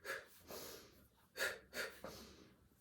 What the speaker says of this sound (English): there is a shorter, sharper breath